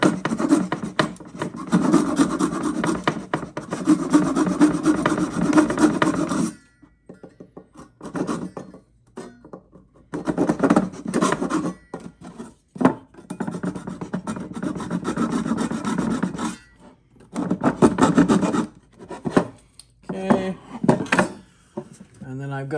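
Hand saw cutting through hardwood on a custom Browning Auto 5 shotgun stock build, a busy rasping stroke sound with repeated back-and-forth cuts, loud and close, with short pauses between bursts of sawing.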